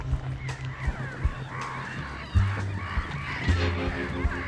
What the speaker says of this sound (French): On a bien sûr beaucoup d'oiseaux de mer, on a quelques oies, des canards